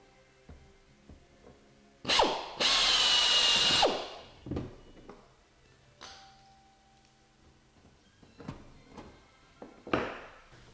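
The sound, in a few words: drilling through pre-drilled holes in aircraft fuselage channel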